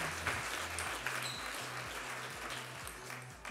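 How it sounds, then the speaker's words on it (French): Faint applause from a table tennis audience, a soft continuous patter of clapping heard from a distance with no talk over it. "ça s'applaudit, ça je crois"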